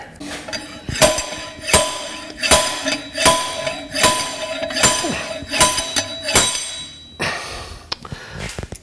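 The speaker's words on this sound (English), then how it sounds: "then you should be able to draw it out with your slide hammer here" Repeated sharp metallic clanks of a slide hammer pulling the 3-4 clutch capsule from a 2003 Chevrolet Silverado 4L60E transmission, about ten evenly spaced impacts, close and ringing, ending with a scraping clatter.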